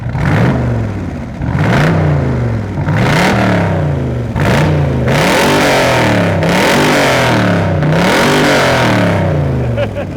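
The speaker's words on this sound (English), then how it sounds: "Give this a little rev." A car engine revs repeatedly at a classic Porsche gathering, rising and falling in about seven loud, close bursts with a steady idle between them.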